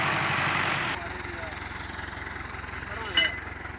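A stuck tractor's engine labours under heavy strain, first at a louder roar, then settling into a lower, rhythmic throbbing chug with a brief surge near the end.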